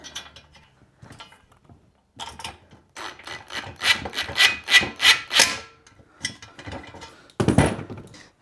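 A bolt, washers and nut being fitted and tightened on a dumbbell plate holder: close metallic rubbing and ratcheting scrapes that build into a louder grinding run, then a short burst near the end, with no voices.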